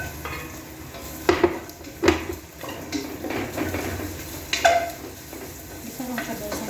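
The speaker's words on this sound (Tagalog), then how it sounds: "Gisa lang siya guys hanggang sa change yung color ng carrot" Carrot sautéing in a pan, a steady sizzle under a utensil that scrapes and clinks against the pan in a few sharp, close knocks while the food is stirred.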